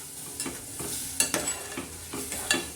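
Moong dal sautéed in a pan with drumsticks brings a soft background sizzle broken by repeated spatula scrapes and stirs, about half a dozen strokes at an uneven pace, close and fairly quiet.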